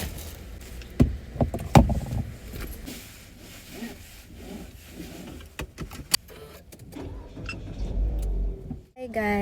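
Shopping mall car park with a car passing and vehicle noise, steady rumbling and rubbing sounds with a few knocks and thuds, fairly close, mixed with handling noise and a voice speaking.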